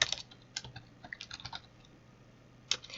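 A computer keyboard typing out a JUnit test method in a quiet room, heard as soft, close, irregular clicks in short bursts with brief pauses.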